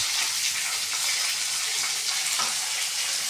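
Onion and chopped tomato sautéing in a pan for baby cabbage poriyal, a continuous bright hiss of frying with faint stirring scrapes throughout.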